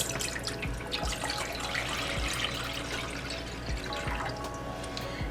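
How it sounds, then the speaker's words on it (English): Filtered water runs steadily into a pot on a stove, a continuous splashing rush with faint knocks beneath, close by and without speech. "we're going to add in 750 ml of filtered water"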